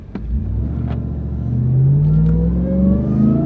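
Supercharged 702-horsepower pickup truck accelerating on a road: a deep engine rumble builds steadily while a rising supercharger whine climbs in pitch over it, with no talking.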